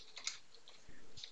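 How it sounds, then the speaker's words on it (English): Quiet computer keyboard typing, a few light key clicks in a short, uneven burst. "I'll simply type print"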